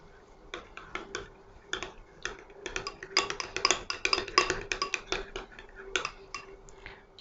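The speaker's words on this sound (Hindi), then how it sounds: "ये चिली सॉस है, तकरीबन 2 टेबलस्पून ही ये इसमें मैं ऐड करूंगी। इसको मिक्स करते हैं।" A spoon clinks and scrapes against a bowl while chili sauce is mixed, giving irregular bursts of tapping that grow busier in the middle, close and fairly clear, with no talk over it.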